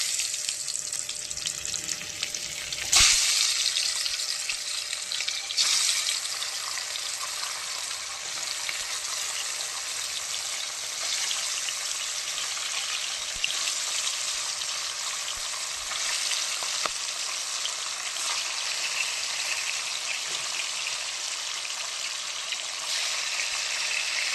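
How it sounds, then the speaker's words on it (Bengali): Bele fish fry in oil in a large wok, a loud, continuous crackling sizzle with a brief sharp burst near the start as pieces go in, steady and close throughout. "এবার বেলে মাছ একটা একটা করে আমি তেলের মধ্যে দিয়ে দেব।"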